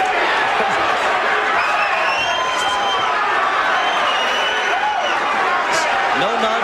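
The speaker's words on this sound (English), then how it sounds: "Crowd chanting his name." A boxing arena crowd chants a heavyweight boxer's name, a dense, loud rhythmic roar of many voices that continues throughout, with cheering mixed in.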